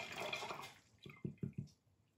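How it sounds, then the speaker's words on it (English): A paintbrush rinsed in water between acrylic painting passes: a soft wash of sloshing first, then four quick, distinct swishing splashes close by, with no talking. "wash that brush."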